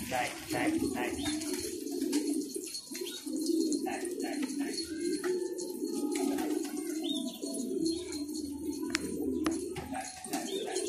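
Steady, low cooing of several pigeons continues throughout, with occasional chirps and faint background sounds.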